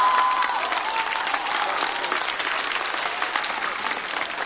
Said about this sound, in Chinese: 来，掌声送给高寒和风心彤。